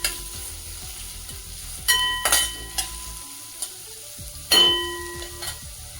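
Chopped onion is sautéed in a pan, with a soft frying sizzle broken by several close spatula scrapes and clinks against the metal, heard alone without talk.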